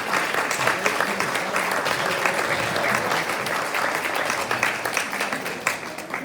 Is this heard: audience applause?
yes